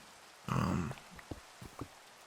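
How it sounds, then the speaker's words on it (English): Rain patters faintly on a window: after a short rushing burst, scattered soft drips and taps follow in a quiet room. "The rain has stopped, but it's still pitter-pattering on my window."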